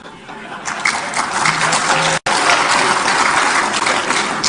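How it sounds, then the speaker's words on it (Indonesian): Audience applause at an Indonesian political gathering, a dense, steady wash of clapping that fills the space at close range, broken by one abrupt cut partway through before resuming at the same level. "Nggak usah tepuk tangan"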